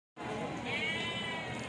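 A sheep at the Tuesday sheep and goat market in Kadiri lets out one long, loud, close bleat that is sustained and wavering and fills the whole moment.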